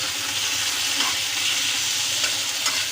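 A spoon stirs tomato and onion masala with garlic-ginger paste in a pan, making a steady, close sizzle and scraping with no talk over it.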